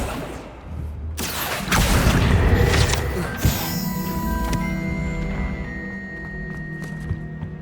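Confringo fire spell exploding in Hogwarts Legacy, a loud booming blast followed by crackling magical debris and a ringing shimmer that lingers under game music.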